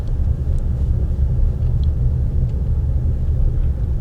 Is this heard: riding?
yes